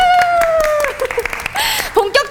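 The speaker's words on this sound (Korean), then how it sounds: "박수!" Studio audience applause at a Korean youth-and-business talk show, a burst of clapping rising under a host's voice and a sustained tone before breaking into scattered claps toward the end.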